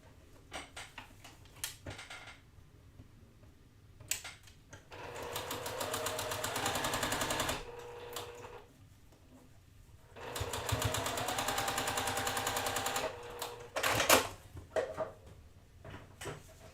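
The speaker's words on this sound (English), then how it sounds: "We're going to sew these together to finish out our little pinwheel." A sewing machine stitches quilt pinwheel pieces in two sustained runs of rapid needle chatter, close and fairly quiet, separated by pauses with small handling clicks.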